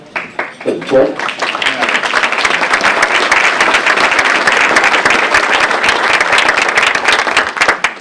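Brief talk, then loud, steady audience clapping rises and carries on at an event honoring women leaders, with many individual claps audible in the dense wash.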